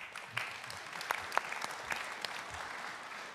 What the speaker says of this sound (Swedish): En applåd till de här personerna.